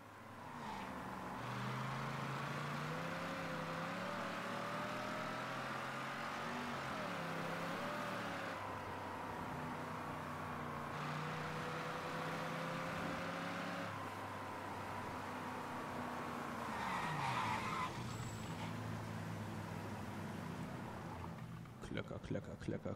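In Mafia 3, a loud muscle car engine idles and revs with a steady droning tone rising and falling in pitch, a sharp drop near the end and brief clatter at the close.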